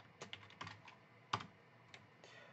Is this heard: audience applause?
no